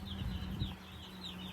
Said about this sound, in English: we got 140 meat chickens in here